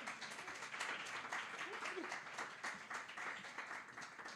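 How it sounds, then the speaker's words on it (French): An audience applauds a speaker with a continuous patter of clapping that stays faint and fairly distant, holding steady through the whole stretch. "On peut l'applaudir."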